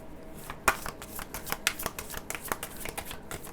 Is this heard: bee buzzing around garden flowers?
no